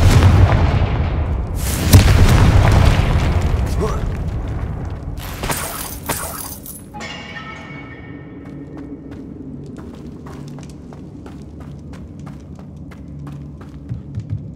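A Confringo fire spell explodes in Hogwarts Legacy with a heavy rumbling boom, followed by a sharp crackling burst and a scatter of fading clicks and debris ticks.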